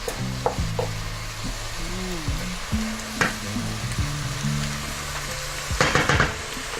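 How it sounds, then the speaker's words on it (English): Food sizzles and fries steadily in a pan, stirred with a few sharp clinks of a utensil against the metal, with a louder scraping burst near the end; nobody speaks. "Now while that's doing it, I'm just going to stir it. Get all those juices in there nice."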